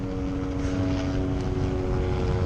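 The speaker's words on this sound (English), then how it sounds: "that's a helicopter directly overhead." A helicopter drones steadily overhead, its engine producing a constant loud hum with a low rhythmic throb.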